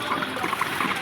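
Water poured into a cooking pot for a Bengali rice dish, a steady trickling stream running close by for about a second with no voices over it.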